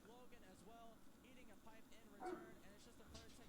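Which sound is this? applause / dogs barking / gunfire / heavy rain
dogs barking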